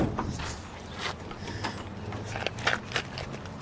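The door of a green 1968 Plymouth Barracuda convertible with a 318 engine is worked open, a string of mechanical clicks, creaks and latch rattles at close range, with faint background noise and no clear speech.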